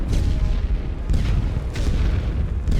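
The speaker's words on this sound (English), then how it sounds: "More artillery. This is light artillery." Light artillery in The Great War: The Western Front, a loud run of deep booms and rumbling blasts rolling continuously over about three seconds, with no talk.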